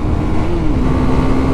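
A 2018 Husqvarna Vitpilen 401 motorcycle engine accelerating, a loud, close, steady drone whose pitch climbs briefly and then holds, with no talking.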